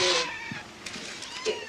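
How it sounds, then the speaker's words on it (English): A small, high-pitched kitten meow up close, followed by a few fainter mewing sounds and light rustling in a quiet room. "look, a little kitten"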